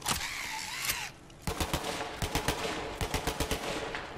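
Rapid automatic gunfire from a weapon in Borderlands 3, firing in quick repeated bursts of sharp cracks, loud and close, with a short break near the start before the shots resume in a steady rattling rhythm.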